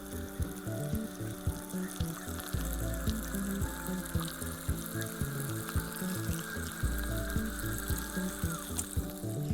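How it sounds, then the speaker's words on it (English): Overcharged lead acid battery cells fizz and sizzle as the acid electrolyte bubbles, a steady hissing layered over a low rhythmic electrical hum, continuous and fairly quiet. "You should hear the sizzling sound of the cells."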